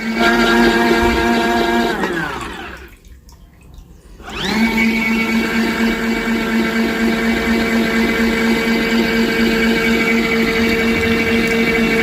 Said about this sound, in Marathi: पुन्हा चालू करायचं आहे बघा असं फिरतं ते त्यातलं पाणी ना सगळं जास्तीचं जे आहे ते निघून जातं आहे